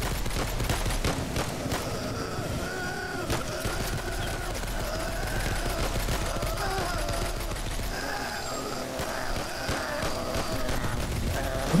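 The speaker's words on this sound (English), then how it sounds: "What are you guys shooting at?" Assault rifle gunfire in the horror video game Unnatural Benighted, a dense continuous rattle of automatic shots and game noise that fills the whole stretch at a steady loud level.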